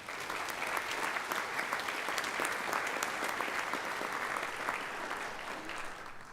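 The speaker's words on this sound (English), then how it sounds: "Please let us recognize all of the new Honor Society initiates with a round of applause." An audience at a university honors convocation gives a round of applause for new nursing Honor Society initiates: an even, dense clapping that holds steady for several seconds with no talking.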